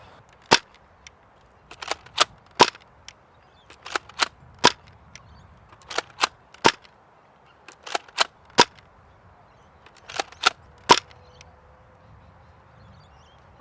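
A Nerf Mega AccuStrike dart blaster fires repeatedly, each shot a sharp, loud snapping crack standing alone, spaced irregularly about a second or so apart with quiet gaps between.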